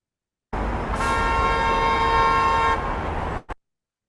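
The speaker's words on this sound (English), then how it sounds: "So you heard a traffic sound" Steady car horn honking in road traffic, a sustained loud toot held for nearly three seconds over engine rumble, then cut off with a brief final blast.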